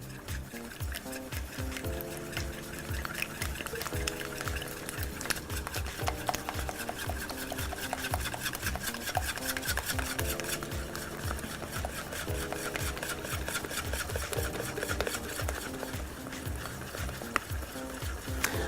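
A whisk beats eggs and flour into crêpe batter in a bowl, making rapid, rhythmic scraping and tapping strokes that continue steadily, with music underneath.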